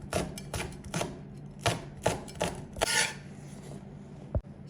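A knife slices bird's eye chilies into small rings on a cutting board, a series of close, crisp taps arriving in an uneven rhythm with a heavier knock near the end and no voices.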